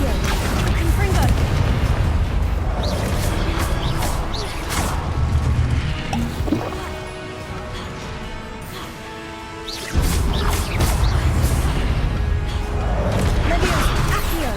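Repeated fire-blast spells cast in the video game Hogwarts Legacy, loud booming crashes and explosive bursts in a dense, continuous battle soundscape with a quieter lull midway before the blasts resume.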